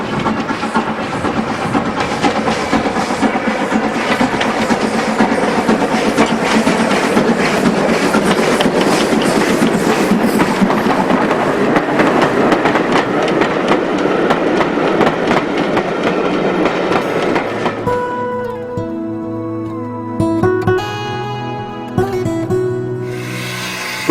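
British steam locomotive 63601 hauls a train into a yard on the Great Central line, a loud, steady chugging and rolling rumble with rail clatter that fades near the end, leaving quieter clanks and squeals.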